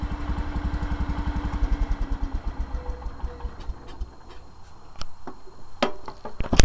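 1971 John Deere 140 H3 garden tractor engine running close by, a fast rhythmic chugging putter that softens midway, followed by scattered clicks and knocks.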